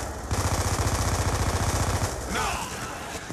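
Loud, rapid automatic gunfire in Call of Duty Black Ops 2, a sustained burst of close shots for about two seconds before it breaks off into other game noise.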